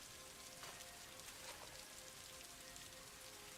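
Steady rain patters in the video game Daggerfall Unity, a dense continuous hiss of drops on surfaces with a few brighter splashes, even in level throughout and free of speech.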